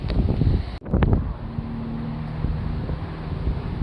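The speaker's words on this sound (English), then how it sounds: "I'm trying to dodge wind gusts" Gusty wind buffets an outdoor microphone in loud, rumbling bursts, with a brief dropout and then steadier low roaring and a faint tonal hum beneath.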